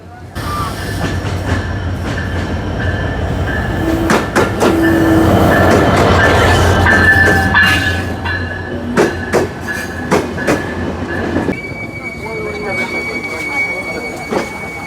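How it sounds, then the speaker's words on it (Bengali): The Kapotaksha Express rolls into a station, loud and close, with heavy rumbling wheels, rhythmic clatter over rail joints and squealing brakes, while people talk nearby. "অনেক অপেক্ষার পরে ট্রেন আসতেছে, কপোতাক্ষ এক্সপ্রেস।"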